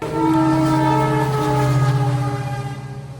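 A loud train rumbles past up close, a sustained horn-like tone and heavy mechanical drone running throughout, fading slightly at the end.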